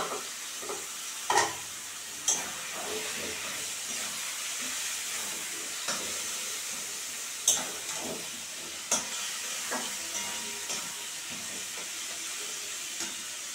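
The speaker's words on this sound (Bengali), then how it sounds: "এখন আমি মাছের তেল আর ডিমগুলো দিয়ে দেব" Fish oil and fish roe fry in a pan with a constant soft sizzle and hiss, broken by occasional sharp clacks of stirring. Everything stays fairly quiet and close, with no talking.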